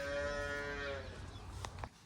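A cow or calf on a farm moos once in a long, drawn-out, fairly loud call at milking time, then fades into quiet farmyard background with a couple of brief knocks near the end.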